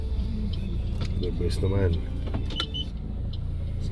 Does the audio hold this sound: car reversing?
yes